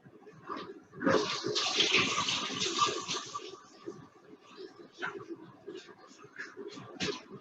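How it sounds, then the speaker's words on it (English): Hands washed under a running kitchen tap, a steady gush of water for a few seconds that then eases into softer splashing and trickling, close by. "Just going to wash my hands."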